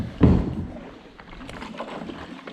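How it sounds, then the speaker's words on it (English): Water sloshes and gurgles inside a hollow plastic jet ski seat compartment, a heavy slosh at first followed by softer swirling and dripping. "This thing is full of water."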